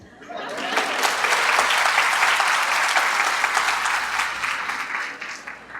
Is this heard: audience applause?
yes